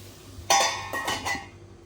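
A metal lid set onto a pot of cabbage and lentil vegetable curry: one sharp clang followed by two lighter clinks and rattles as it settles, close and alone.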